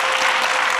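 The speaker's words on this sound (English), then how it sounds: "Just a round of applause for you" A brief burst of dense applause from a crowd, steady and loud throughout.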